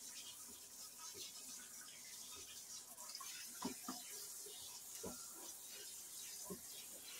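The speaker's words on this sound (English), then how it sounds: "And you want to make sure you get everything rinsed really well." Running water rinses sliced cucumbers for bread and butter pickles, a faint, steady hiss of tap flow with soft clunks and splashes as the slices are moved around, no voices.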